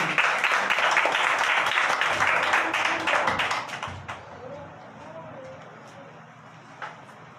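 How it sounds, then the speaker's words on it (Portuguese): A church congregation at a family service claps for Jesus, loud and dense at first. The clapping fades after a few seconds into a quieter room with a few scattered taps. "Recebe o servo com as palmas para Jesus"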